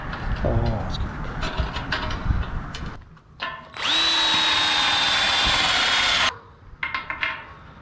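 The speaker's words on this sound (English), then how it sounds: "We're drilling holes through the steel, and then we're gonna put these bolts down in the top of the telephone pole." A power drill bores through a steel plate on a telephone pole for 5-inch, 1/2-inch lag bolts while building a pole barn, with a loud steady whine of a few seconds between shorter bursts of scraping and handling.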